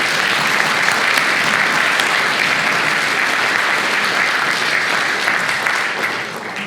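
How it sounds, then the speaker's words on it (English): Loud, dense applause from a hall of fame ceremony audience rolls on steadily, many hands clapping at once, easing slightly just before it ends. "So let's give Joe a round of applause."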